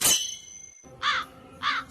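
Crows caw twice outdoors, each a loud, harsh, close call about half a second apart, following an opening squawk and a brief quiet gap.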